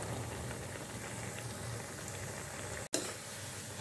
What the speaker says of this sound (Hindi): और अच्छी तरह से दोनों साइड फ्राई कर लेती हूँ।